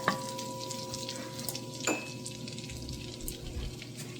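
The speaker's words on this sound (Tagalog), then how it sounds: "So, igisa natin to guys." Chicken stir-frying in a pan with oyster sauce, black pepper and Knorr seasoning, a soft, steady sizzle with a couple of light utensil clinks, fairly quiet and close.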